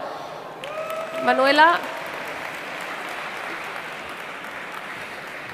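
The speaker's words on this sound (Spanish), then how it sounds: "Le damos un fuerte aplauso a Manuela, por favor." An audience applauding a speaker at a social media talk, a broad wash of clapping that rises briefly and then holds steady at a moderate level, with someone speaking over its start.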